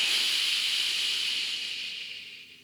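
A slow, hissing exhale shaped into a breathy "he" in Kriya breathing, close and steady, gradually tapering off.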